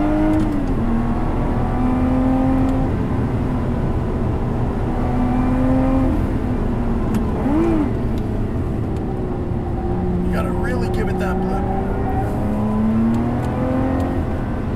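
A Lotus Evora GT engine pulls hard around a race track, revving up through the gears with pitch climbing and dropping at each shift, loud and close throughout.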